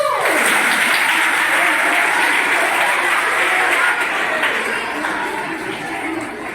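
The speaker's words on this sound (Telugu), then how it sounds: "అందరూ చప్పట్లు కొట్టారు" A hall full of people at a library week celebration breaks into loud, sustained clapping all at once, a dense wash of applause that holds steady for several seconds before easing slightly.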